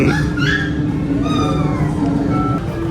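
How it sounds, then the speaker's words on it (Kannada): A cat meows a few times, drawn-out and fairly close, over a steady background hum in a cat cafe. "What does cat say, Sakura?"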